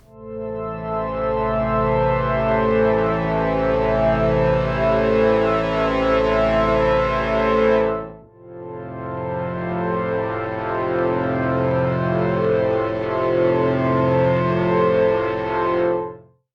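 Long sustained synth pad chords from Newfangled Audio Generate, rich and harmonically dense with a distorted, chorused shimmer, two held chords of about eight seconds each, alone with no voices.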